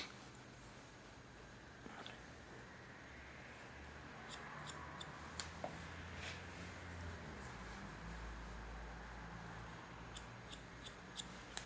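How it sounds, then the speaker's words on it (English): Scissors point-cutting the upper layer of a woman's short hair at a salon, giving faint, sparse snips over a quiet room hush. "Coming to our upper hair, and that I cut in a point cut technique, not too deep, just to get a smooth drape of the hair."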